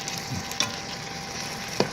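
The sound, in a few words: thin top round steak strips frying, stirred in Ninja Foodi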